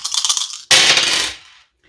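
Three six-sided dice, including one large die, clatter onto a table: a quick rattle, then a louder tumbling burst that fades out.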